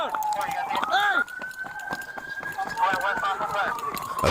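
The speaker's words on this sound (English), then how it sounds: "they hear a police siren from a patrol car responding to the request for backup" A police patrol car siren wails with a steady rising and falling tone, loud and continuous, with brief sweeping whoops at the start, over street noise and scattered shouting voices.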